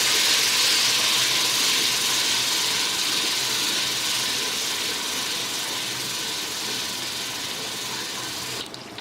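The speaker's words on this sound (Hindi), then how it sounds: "अब हम इसमें लहसुन डाल देंगे और अच्छी तरह इसको फ्राई करेंगे" Garlic frying in hot oil in a pan for egg fried rice, a steady loud broadband sizzle and hiss that holds unbroken throughout and eases slightly toward the end.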